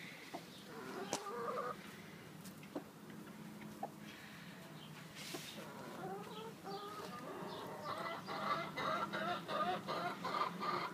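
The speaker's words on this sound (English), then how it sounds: "Oh yeah, you're a good chicken." A broody hen clucking nearby, with scattered soft clucks and low grumbling calls that grow into more frequent, busier clucking toward the end, quiet overall and without speech.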